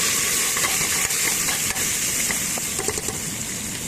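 Onions frying in hot oil alongside curry leaves, a steady dense sizzle and hiss holding an even level throughout with faint stirring clicks near the end.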